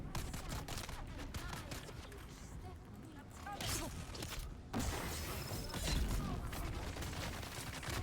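Heavy gunfire from big guns in the Dune Awakening video game rattles as a dense, continuous barrage of overlapping blasts, with a louder surge midway and booming low thuds.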